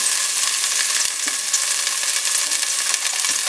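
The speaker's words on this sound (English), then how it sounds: "This is just getting a sear and getting the juice and everything off the bottom of our pan." Birria meat searing in a hot pan, a loud, dense, steady sizzle with a few faint clicks and knocks, close and continuous with no talk.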